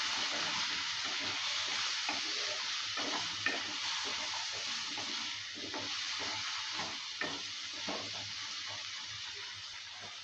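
Potatoes seasoned with salt and turmeric are stirred in a pan, making a continuous soft sizzle with scattered scraping strokes of the spoon. A faint voice may come through now and then.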